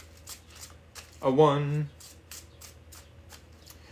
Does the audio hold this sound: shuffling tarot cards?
yes